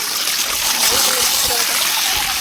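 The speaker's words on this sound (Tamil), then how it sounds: "கை கழுவி," Water running steadily from a tap during handwashing, a close, loud, broadband hiss with faint splashing that fills the whole moment.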